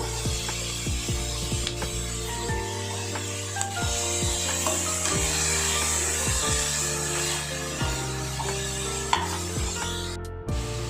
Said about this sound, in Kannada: ಸ್ವಲ್ಪ ಕಲರ್ ಚೇಂಜ್ ಆಗೋವರೆಗೂ ಕೈ ಆಡಿಸಬೇಕು ಇದಕ್ಕೆ ಟೊಮೊಟೋನ ಆ್ಯಡ್ ಮಾಡ್ಕೋಬೇಕು